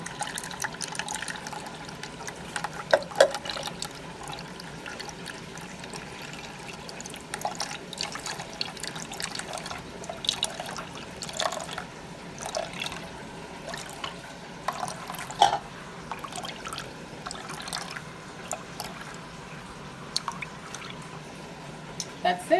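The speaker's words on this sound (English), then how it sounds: "But what we're gonna do is strain the coconut milk off." Blended coconut and water being strained to separate the coconut milk, with liquid trickling and dripping in small intermittent splashes, quiet and close.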